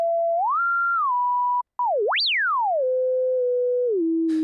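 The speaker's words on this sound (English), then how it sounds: "So you can effectively make a sine wave." A u-he RePro-1 synth's self-oscillating filter produces a pure sine tone. The tone glides and steps through several pitches, with a short gap in the middle and a sharp upward sweep. Near the end it settles into a low steady tone, ending with a brief burst of noise.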